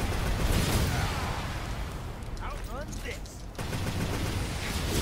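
Rapid bursts of projectile gunfire from the video game Devil May Cry 5 rattle on amid loud game effects, with a brief lull in the middle before the barrage resumes.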